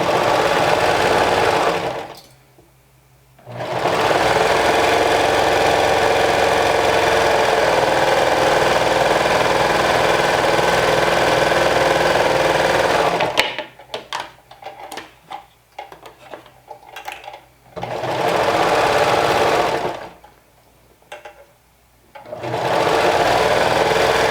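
A sewing machine stitches slowly over a bulky cardigan seam in long steady runs, pausing briefly several times, with short stop-start bursts in the middle; close and loud with no talking.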